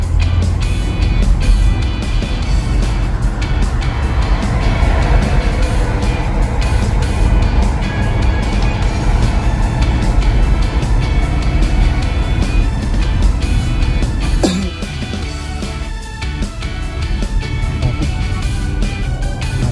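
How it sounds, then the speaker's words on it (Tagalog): Dense road traffic roars loud and steady for nearly twenty seconds, a continuous rumble of passing engines that dips briefly near the end before swelling again. "Traffic."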